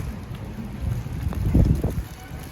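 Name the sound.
wind blowing snow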